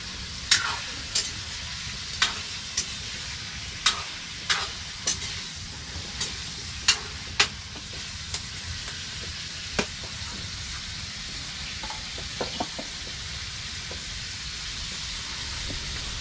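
Garlic and onion sizzle in a pan with a steady hiss, while sharp clicks and taps of a utensil against the pan ring out repeatedly in the first half, close with no talking.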